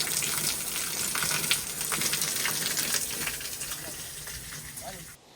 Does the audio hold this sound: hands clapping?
no